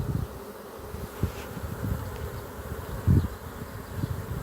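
Honeybees from a newly hived swarm fan on top of the hive boxes in late July, a continuous buzzing hum near the listener with occasional low bumps and handling knocks.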